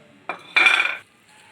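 A spoon scraping and clinking in a bowl while mixing potato paratha filling with coriander, mint, green chili, pomegranate seed and onion, two short close knocks and a brief scrape, no talking.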